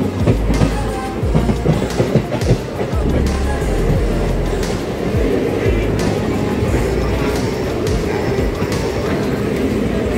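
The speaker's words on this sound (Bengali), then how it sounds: "সামনে যে লাইনটা আছে সেখান থেকে একটা ট্রেন যাচ্ছে" A train rolls past on the track in front of a station platform after dark, a loud, continuous rumble with rhythmic clickety-clack of wheels over rail joints throughout.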